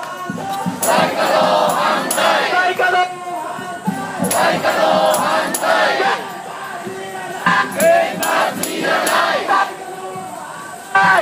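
At an anti-nuclear protest in Tokyo, a lead chanter calls and a large crowd shouts back in rhythmic unison. The chants are loud and near and repeat every couple of seconds with brief gaps between them.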